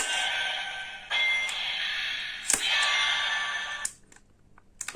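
A Kamen Rider Baron DX Bana Spear toy, pulled in and out, gives off buzzing electronic tones broken by clicks and clacks, then cuts out to quiet with a few light taps.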